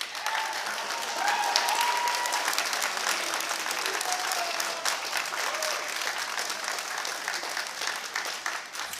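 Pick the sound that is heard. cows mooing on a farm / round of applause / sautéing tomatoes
round of applause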